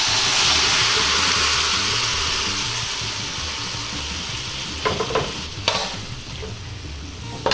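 Squid sizzles loudly as it is dropped into a hot pan of adobo sauce with coconut milk, a dense steady frying hiss that eases slightly, broken near the end by a few sharp scrapes of stirring.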